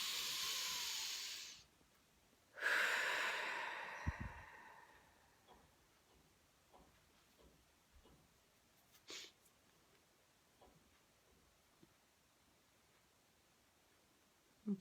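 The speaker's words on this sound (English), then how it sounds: "Deep breath." A slow deep breath, a long airy inhale and then a breathy exhale, close and soft, followed by quiet stillness with a few faint small sounds.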